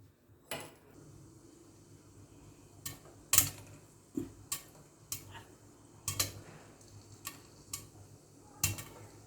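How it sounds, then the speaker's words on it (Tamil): Scattered sharp pops and clicks at irregular intervals, some louder than others, as corn kernels burst inside a covered pan for sweet popcorn, with a faint background hiss. "அது வெடிக்க ஸ்டார்ட் ஆகிடுச்சு மேலே நல்லா ஜம்ப் ஆறுது"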